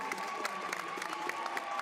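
A crowd at an ice dance rhythm dance event in Espoo applauds and cheers for Finnish skaters, a steady dense wash of clapping with a few faint shouts.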